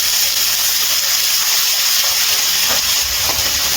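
Sliced onions sizzle in hot oil in a pan, giving a steady, loud, close hiss that holds evenly throughout with no talking.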